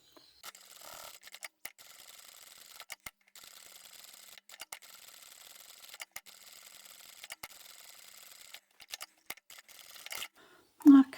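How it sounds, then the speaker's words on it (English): A sewing machine top stitching a fabric Christmas placemat made from hexagons: repeated stretches of steady mechanical whirring broken by short pauses, close and moderately loud, ending with a brief louder knock. "I might as well top stitch this one while I'm here."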